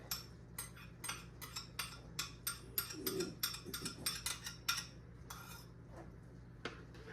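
A metal spoon scrapes and clinks inside a glass jam jar in a steady run of short, close, crisp strokes, with no voices.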